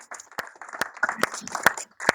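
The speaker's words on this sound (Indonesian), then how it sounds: "tepuk tangan dulu buat kita semuanya" A small indoor evening audience claps in scattered, uneven bursts of applause, a few sharp individual claps standing out, fairly close and brief.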